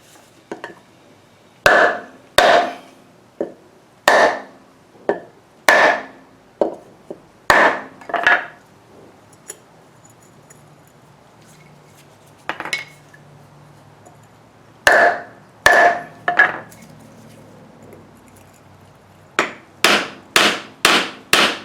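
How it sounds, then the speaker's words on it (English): Repeated metallic hammer strikes ring out in irregular clusters, sharp and close, as a wheel bearing race is driven into a hub, with brief pauses between groups and a fast burst of blows at the end. "You can even hear a difference in the tone when you're hammering"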